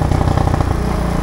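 Loncin 110/125 motorcycle engine running with no wadding in the exhaust, a loud, close, rapid throbbing putter that holds steady and slightly settles in pace, with no talk.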